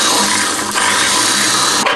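A power drill whirs steadily for about two seconds while boring a small starter hole during construction of a hydraulic ram pump, a continuous loud grinding hum close by.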